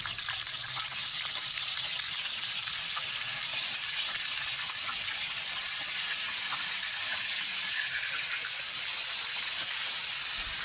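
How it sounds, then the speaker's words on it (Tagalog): Meat dropped into hot oil with garlic sizzles and spits in a pan, a bright, steady, close-up frying hiss running without a break and no talking. "Goods na ni sa kainit oy, mag-start na dayon tagbutang sa karne."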